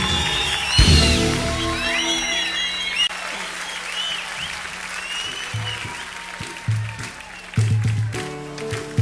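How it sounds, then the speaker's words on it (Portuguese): At a school event in Tuntum, Maranhão, an audience claps for the teachers, the applause steady and moderately loud with a few louder bursts, while a voice and some background sounds carry on underneath. "batam palmas pra ele, batam palmas pra ele, que ele merece."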